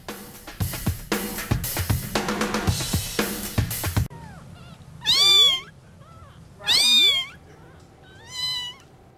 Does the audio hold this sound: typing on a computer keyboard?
no